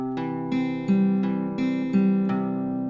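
Guitar strummed through a chorus chord progression, about six even strums a few seconds apart, each chord ringing out before the next.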